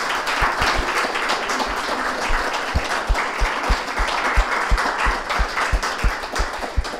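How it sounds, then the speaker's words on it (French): A seated audience gives a guest a round of applause, a sustained patter of many hands clapping at moderate loudness with no voices over it. "on l'applaudit, notre invité"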